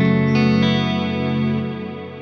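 Neunaber Illumine reverb pedal with its tone control turned down, giving a sustained, dense wash of held harmonics that swells briefly and then slowly fades over about two seconds, with no talking.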